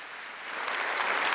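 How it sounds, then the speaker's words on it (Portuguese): Audience applause for a priest at a Catholic talk, a dense wash of clapping that swells steadily and holds over the brief stretch. "Dá mais uma salva de palmas para Padre Jonas."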